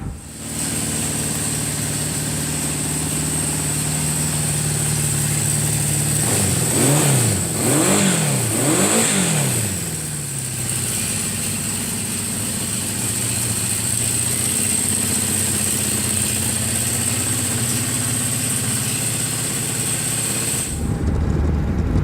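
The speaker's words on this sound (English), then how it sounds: "I fired it up, and I'll show you a video of it running for the first time here." A Honda CB550K motorcycle engine, sitting idle for 34 years, runs for the first time after restoration, a steady loud idle with a few rising and falling throttle blips in the middle before it cuts off near the end.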